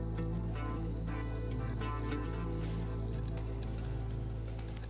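Butter melts in a Tefal frying pan with a steady, close sizzle and fine crackling spatter that runs without a break, alone with no talking.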